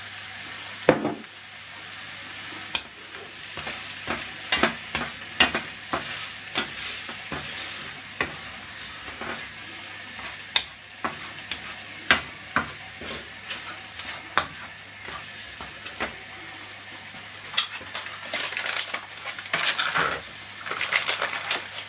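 Reduced-sodium soy sauce goes into egg fried rice sizzling steadily in a hot pan, with frequent scraping, clattering stir strokes running through the whole stretch and no talking.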